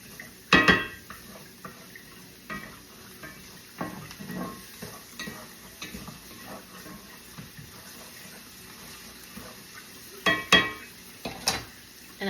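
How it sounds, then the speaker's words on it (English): Chopped Vidalia onion being stirred in olive oil in a pan, a quiet sizzle with scattered scraping and clinking of the utensil, close and without speech. "and then add in 1 chopped Vidalia onion. Just give that a little stir"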